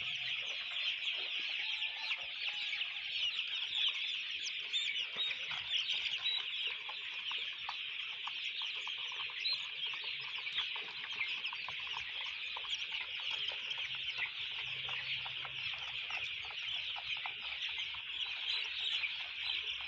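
A flock of chickens and chicks cluck busily while jostling over feed, a dense, continuous chorus of close clucks and chirps throughout.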